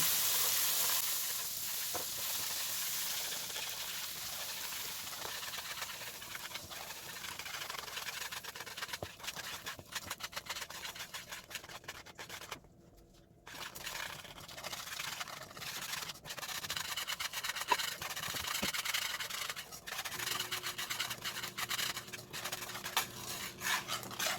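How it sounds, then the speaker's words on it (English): Butter being whisked into bubbling melted sugar caramel, with a continuous scraping and rubbing of the whisk against the pan over a soft sizzle. It is steady and close, with a brief pause midway and no talk. "add your butter in. And it's going to bubble up, but you just keep on whisking"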